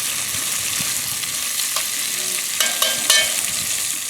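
Vegetables cook down in a pork and pepper stew on a Weber kettle grill with a low, even simmering sizzle. A few brief clinks and tonal metallic touches come near the end, and nobody speaks.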